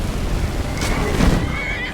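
A horse in the video game Skyrim whinnies once, loud and close, over a steady low rumble of game ambience.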